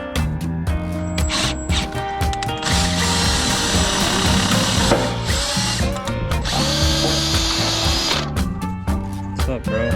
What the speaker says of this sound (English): start drilling some holes